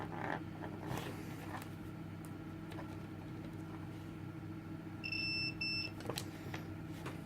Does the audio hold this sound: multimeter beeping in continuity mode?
yes